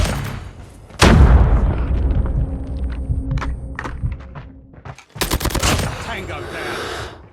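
Bursts of KN-44 assault rifle fire in Call of Duty Mobile crack loudly in rapid strings, with a sharp onset at the start and a second heavy volley near the end, amid other game effects.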